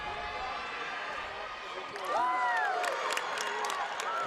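Crowd and cheerleaders cheering loudly at a high school girls' basketball state tournament game, Carbon versus Morgan, a broad roar with rising shouts that swells halfway through, with an announcer talking over it.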